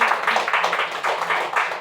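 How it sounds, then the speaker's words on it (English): Church congregation clapping for the Lord, a steady close crowd of hands clapping loudly with uneven pulses throughout. "you can clap the hand for the Lord"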